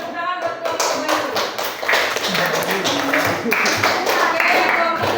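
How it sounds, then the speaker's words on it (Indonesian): Classroom clapping for a new group: dense, fast hand claps from many students fill the clip, with voices talking and calling over the applause. "Tepuk tangan buat kelompok baru."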